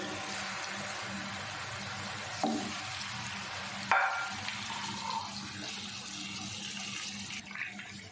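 Chicken drumsticks being laid into melted ghee in a pan, giving a soft, steady sizzle with a few clinks and small splashes as pieces go in.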